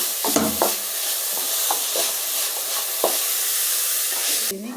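Rice frying in a pan as fried rice is cooked, a steady loud sizzle with repeated scraping stirs of the spatula at irregular intervals, close up and with no talking.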